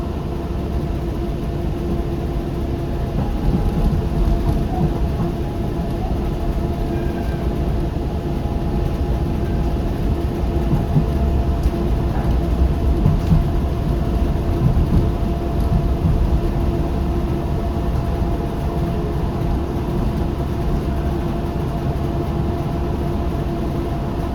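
A Docklands Light Railway train runs from Blackwall to Poplar, giving a steady rumbling roar of wheels and motors with a constant electric whine, loud and unbroken throughout with no voices.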